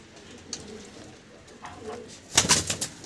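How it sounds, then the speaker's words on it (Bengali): Pigeons kept for sale cooing and shuffling close by, soft intermittent coos followed by a louder burst of fluttering and calls near the end. "এই হচ্ছে পায়রা"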